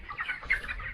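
Chickens weighing about 1.4 kg cluck in a poultry farm shed. Several short, close clucks sound in quick succession.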